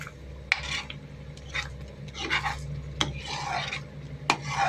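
Wheat halwa stirred in a kadai with ghee separating, a ladle scraping and rasping against the pan in irregular strokes with a few sharp clinks, close and fairly loud.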